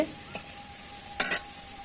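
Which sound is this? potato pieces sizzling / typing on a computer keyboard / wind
potato pieces sizzling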